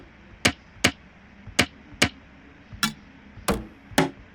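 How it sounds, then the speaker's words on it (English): Percussion samples are auditioned one by one in FL Studio: about eight sharp, dry single hits with short decays, spaced irregularly roughly half a second apart, heard alone with no talking. "Let's check for percussion."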